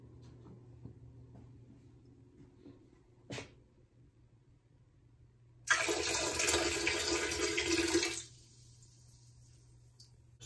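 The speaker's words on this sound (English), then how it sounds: "we are going to wait for the machine to finish soaking, or wait for it to start soaking" Washing machine filling with water for a soak, a sudden strong rush of water that starts midway, runs loud for about two seconds, then drops to a faint trickle over a quiet low hum.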